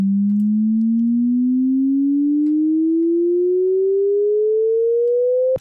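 A synth pitch-bend sweep riser programmed in Ableton: a pure, steady tone gliding smoothly upward over about five and a half seconds, loud and alone, cutting off abruptly at the end.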